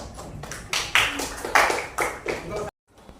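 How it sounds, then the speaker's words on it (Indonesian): A third-grade class claps in a short run of separate, fairly loud claps with uneven spacing, then stops abruptly into silence. "Terima kasih. Tepuk tangan."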